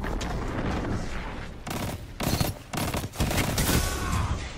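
Rapid bursts of automatic gunfire and explosions from the Destiny 2 video game, dense and continuous with brief dips, loud and close throughout.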